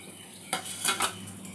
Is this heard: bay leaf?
yes